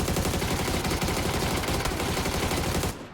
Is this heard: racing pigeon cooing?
no